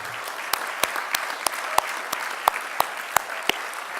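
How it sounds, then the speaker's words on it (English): Brief applause from a conference audience at a leadership and community development gathering, a soft wash of clapping with a few distinct nearby hand claps standing out at a steady beat. "But I want us to all just give a brief round of applause to Jeffrey for this conference."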